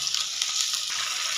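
Green chilies stir-frying in hot oil for chilli chicken make a steady, bright sizzle that fills the short moment, close and fairly loud, with no voices.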